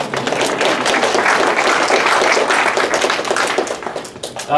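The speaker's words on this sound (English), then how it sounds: "You guys can clap, too." Guests at a Hall of Honor induction ceremony give a dense round of applause, many hands clapping steadily and loudly before it thins out near the end, where a voice begins to speak.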